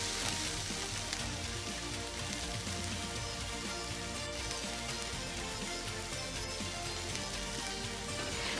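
Onion and a little tomato fry for Rajasthani gatte ki sabzi, a dense, even sizzle like light rain that holds steady and close throughout with no talking.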